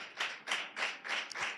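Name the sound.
congregation clapping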